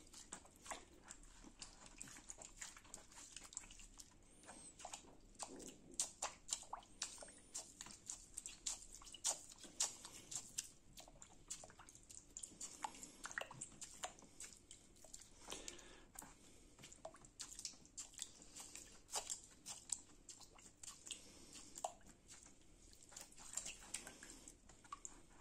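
Soft, wet squishing and dripping as an aquarium filter sponge from a Ciano CF80 filter is squeezed repeatedly in aquarium water, close and quiet, in uneven bursts with no talking.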